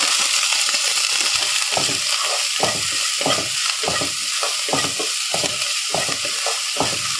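Steady loud sizzling of chopped onions, green chilies and coriander frying in a hot pan, with repeated scraping strokes of a spatula stirring roughly every half second.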